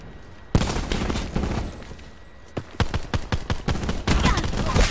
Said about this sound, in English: I just killed you with a pistol.